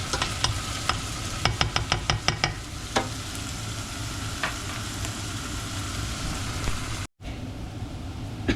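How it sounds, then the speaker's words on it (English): Onions frying in a pan for butter chicken give a steady close sizzle, cut through by clusters of sharp scraping clicks as a utensil turns them, with one brief dropout near the end. "the onions are browning, and I don't want to have them burned"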